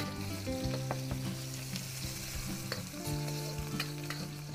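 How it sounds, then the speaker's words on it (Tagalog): Garlic and ginger sauté in cooking oil in a pan, a continuous close sizzle broken by occasional stirring knocks, with some faint tonal background sound and no talking. "Luto-lutuin lang po natin yung bawang at luya"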